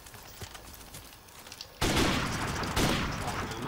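Gunfire in the video game Modern Warfare Remastered, on the small Shipment map: quiet at first, then two loud bursts of rapid shots hitting around the two-second and three-second marks and ringing on.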